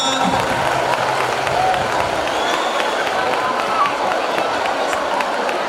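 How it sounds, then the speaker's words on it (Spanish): An audience at a school carnival (Entroido) applauds a class performance with loud, sustained clapping and crowd noise that fills the whole stretch without letup. "Ese aplauso final para la actuación del segundo de la ESO A"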